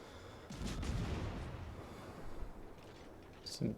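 Incoming naval shell fire in World of Warships, heard as low rumbling booms and distant artillery thuds rolling over a steady battle din, with a sharper blast near the end.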